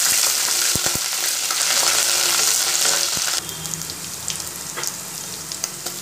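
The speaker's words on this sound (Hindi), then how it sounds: "और इसको अच्छे से भून लेंगे।" Urad dal, green chili and ginger frying in hot oil for upma, a steady loud sizzle with a few sharp clinks of a spoon against the pan, the hiss dropping a little in the second half.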